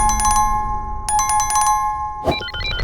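Quick bursts of bright, ringing bell chimes repeat in clusters, followed by a short jingling chime flourish, loud and close.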